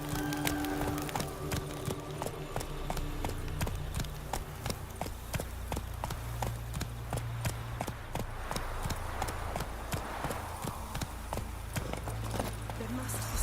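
Hooves clop in a quick, rhythmic gallop as a horse runs in The Witcher 3 video game, moderately close and steady throughout, under occasional voices and ambient game sounds.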